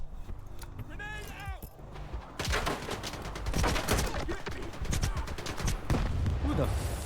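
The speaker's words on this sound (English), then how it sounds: "Who the fuck is shooting?" Rapid bursts of automatic gunfire crackle through a firefight in the video game S.T.A.L.K.E.R. 2, loud and dense after a quieter opening, with a voice speaking over the shooting.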